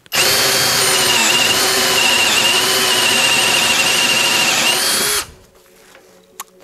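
A cordless Vitals Professional AU 1860Pbt BS SmartLine drill-driver bores into a pine board with a 32 mm Forstner bit in first speed, a loud steady whining motor drone for about five seconds that stops abruptly, followed by a faint click.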